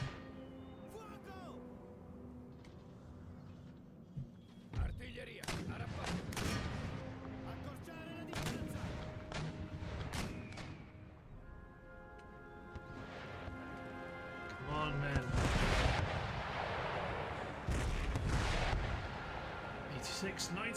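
Artillery and musket gunfire rumble through a naval and land battle in Empire: Total War, repeated booms and cracking volleys of varying distance layered over battle ambience, with a voice speaking now and then.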